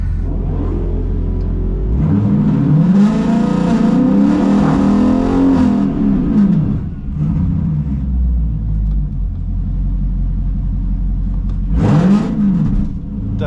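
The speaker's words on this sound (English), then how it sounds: "I had a bad burnout. In fact, I'll play that clip here in a second." A Dodge Challenger's loud engine with the stock cat-back exhaust removed revs hard during a burnout with spinning, screeching tires, then drops to a rumbling idle before another sharp rev near the end.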